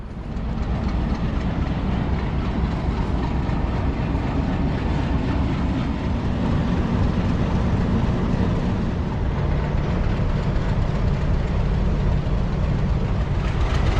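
The Kohat Express, a Pakistan Railways train, pulls away from platform 1 with a loud, continuous rumble and rolling wheel noise that stays steady and close throughout.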